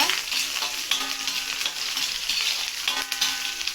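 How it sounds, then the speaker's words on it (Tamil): Curry leaves crackle and sizzle in hot oil, with a steady spitting hiss and occasional scraping as they are stirred. "சத்துது கருவேப்பிலை போடலாம் போட்டு நல்லா கிண்டி விடுங்க"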